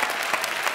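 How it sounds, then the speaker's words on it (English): Studio audience applause on a television game show, a brief, steady burst of crowd clapping with no pauses. "There are no men clapping."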